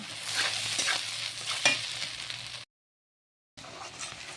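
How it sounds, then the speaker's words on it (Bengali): Onion, garlic and sliced green chillies stir-frying in hot oil in a pan, a steady close sizzle with spatula scrapes that cuts off to about a second of silence before the crackling resumes. "পেঁয়াজ রসুনটা হালকা ভাজা হয়ে গিয়েছে"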